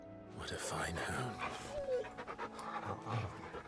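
A hound named Torgal in a video game, panting and making short whimpering dog vocalizations close up, mixed with game voices and sounds.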